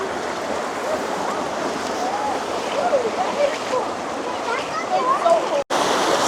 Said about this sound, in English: Just making our way through the water path.